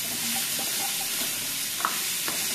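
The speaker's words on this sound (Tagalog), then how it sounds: "So, mix naman din hanggang sa matunaw yung chicken broth cubes niya." Chicken afritada with chicken broth cubes gets stirred in a pan, a steady close sizzle broken by a few soft scrapes and clicks of the spoon, with no one talking.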